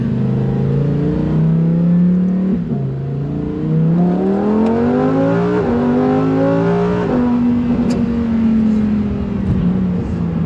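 A Lamborghini Huracan Performante engine revs up and down repeatedly, pitch climbing and dropping through gear shifts, loud and close throughout.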